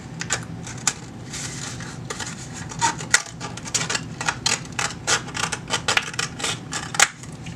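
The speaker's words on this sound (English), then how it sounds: "cut about this much off of the toilet paper roll" Scissors cut through a cardboard toilet paper roll up close, a run of crisp snipping and crunching clicks in an uneven rhythm, with no talk.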